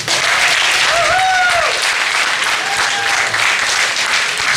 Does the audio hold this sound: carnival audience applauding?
yes